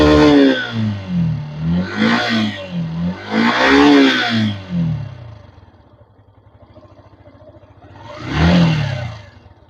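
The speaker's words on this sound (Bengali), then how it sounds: "ইয়ামাহার এফজেড ভার্সন 3 এর কিন্তু সাউন্ড কোয়ালিটি ফাটে না।" A Yamaha FZ V3 motorcycle engine revs hard in three loud bursts over the first four seconds, drops to a low steady idle putter, then rises in one more sharp rev near the end, close to the microphone.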